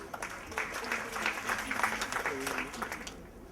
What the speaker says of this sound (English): Round of applause for Mr. Manoj Kumar Singh.